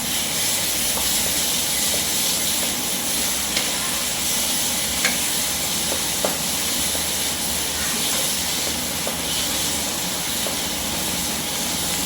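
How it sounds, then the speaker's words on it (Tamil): Ginger and garlic sautéing in a pan for fish curry, a steady loud sizzle and hiss with occasional faint clicks from stirring, continuous and close. "இப்போ இஞ்சி பூண்டு போட்டு நல்லா வதக்கியாச்சு"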